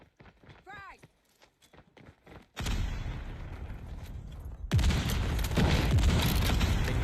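Gunfire in a team-based shooter video game match, dense rapid shots and booming impacts building into a loud, sustained barrage after quieter clopping and brief voice-like sounds at the start.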